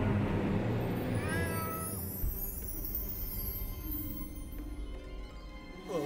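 A cat meows loudly and close, a drawn-out whining call at the start that fades into quieter background noise.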